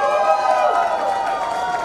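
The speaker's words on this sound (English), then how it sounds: "can we please give all of you all a round of applause?" Wedding guests at a sangeet ceremony clap and cheer together, a dense steady wash of crowd applause and voices filling the room for a couple of seconds.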